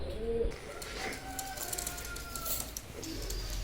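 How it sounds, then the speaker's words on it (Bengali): Teddy pigeons coo softly and repeatedly in a nearby loft, low murmuring calls with faint background noise. "এখন যে কবুতার দুটো দেখছেন এটাও একশো আঠাশ নম্বর টেডি"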